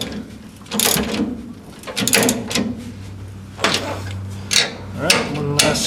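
Ratchet wrench tightening leaf spring clamps on a demolition derby car, giving bursts of clicking and metallic ratcheting with pauses between strokes, close up, alongside faint low talk.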